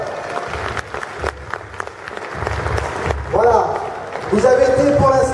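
A Futuroscope audience applauds at a robot dance party, with bursts of clapping and crowd noise mixed with loud music and voices, the sound swelling louder toward the end.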